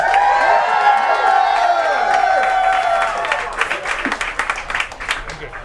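A crowd at a Hillary Clinton campaign rally cheers and whoops loudly, then settles into scattered clapping and applause.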